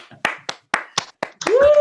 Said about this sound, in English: Justina, get a round of applause,